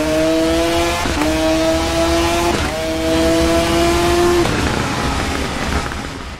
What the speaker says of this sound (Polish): Nawet ściszę trochę grę, bo tak ten motocykl jest kurde za głośny.